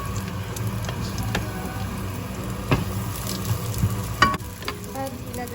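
Pork browned with garlic sizzles as onions are added and stir-fried in a pan, a steady crackling fry punctuated by occasional spatula scrapes and clinks, close and moderately loud with no talk.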